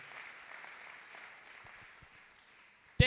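A church congregation applauds, a soft, distant patter of many hands that holds steady and then thins out, ending with one loud close knock.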